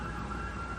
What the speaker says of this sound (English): I apologize about the sirens going off.